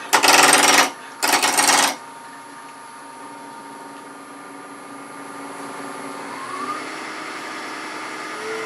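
A wood lathe turns a multi-axis twig pot: two loud, rough bursts of cutting noise come first, then the machine settles into a steady, moderate running hum with a faint rising whine, and no one talks.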